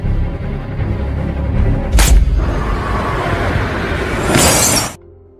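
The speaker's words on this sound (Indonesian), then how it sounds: "tembakan Henry berhasil mengenai target pada bagian leher." A sharp sniper rifle gunshot in a film scene on a high-speed train cracks out, followed by a lingering rumble and a second loud burst before the sound cuts off abruptly.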